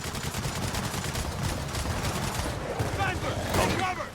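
A turret in Gears of War 4 fires rapid, continuous bursts of heavy gunfire that stay loud and sustained, with a person talking and exclaiming over the shooting.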